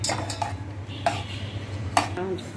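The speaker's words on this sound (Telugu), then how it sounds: "కాజు అండ్ నెయ్యి వేసుకున్న తర్వాత కలుపుకోవాలి" Cashews and ghee being stirred in a pan, a few close scraping and clinking strokes of a spoon against metal spread over a couple of seconds, with a faint steady hum behind.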